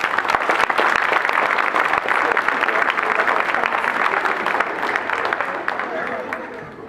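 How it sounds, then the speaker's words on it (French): An audience at a school concert applauds the older children's choir, a steady wash of many hands clapping from start to finish, fading slightly near the end, with a few voices mixed in. "On peut les applaudir."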